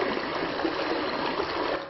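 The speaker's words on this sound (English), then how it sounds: "running water" A stream of running water babbles and trickles continuously, a full, even gurgling flow close by with no talking.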